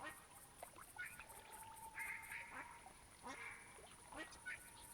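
Black ducks in the hunting game theHunter Classic quack repeatedly in quick, overlapping bursts, faint and distant over a soft ambient background.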